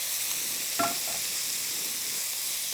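Shrimp added to a hot pan for Southwestern-style shrimp and grits, a brief louder crackle over a constant soft sizzle, with no voices.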